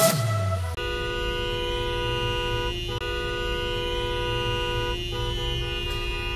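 A car horn blares in a long, unbroken blast over steady street traffic in Tijuana, loud and close, with no talk.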